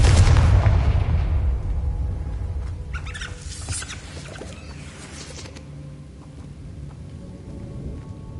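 A Confringo fire spell goes off in the Hogwarts Legacy video game with a loud, booming blast that rolls and fades over several seconds, followed by scattered crackling debris and a low ambient rumble.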